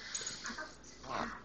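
A hound dog lets out a brief, thin whimper twice in about a second and a half, fairly close but soft, with faint household background noise and no clear speech.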